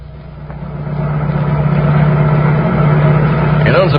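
A police patrol car engine hums steadily in an old radio drama, a loud, sustained low drone that swells slightly and stays close, with a brief squeal near the end.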